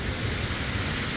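Heavy monsoon rain in Mumbai pours down in a dense, continuous hiss, loud and close, with no voices heard.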